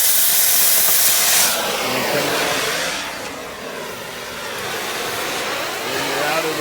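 An oxy cutting torch roars with a loud, steady rushing hiss as it heats metal until the piece begins to sag, dropping a little in level partway through and then swelling again.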